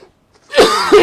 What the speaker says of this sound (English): As he pauses to cough his guts up as per usual